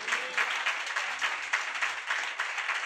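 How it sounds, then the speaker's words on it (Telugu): A church congregation claps together at a pastor's request, a dense roomful of hands beating in a steady rhythm with soft pulses throughout. "ఒకసారి చప్పట్లు కొట్టండి"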